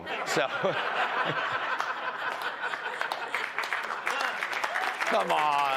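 Applause from the chamber at a joint address of Congress, mixed with chuckles and laughter, with a voice speaking over the clapping throughout.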